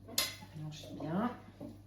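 A utensil clinks and scrapes around a pot while Christmas jam is stirred, a short close burst of metallic knocks and scraping under a voice.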